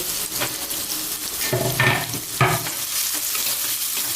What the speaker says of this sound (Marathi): कांदा यामध्ये आपण छानपैकी परतून घेऊयात थोडासा गुलाबी कलर येईल असा